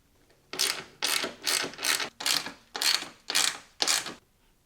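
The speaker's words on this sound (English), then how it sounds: "I'm just gonna remove these two bolts, and there's two bolts down here" Ratchet clicking while bolts come off the fog light assembly of a 2025 Ram 1500 Rebel: eight evenly spaced, fairly loud bursts of rapid clicks, close up, in an otherwise quiet space without talk.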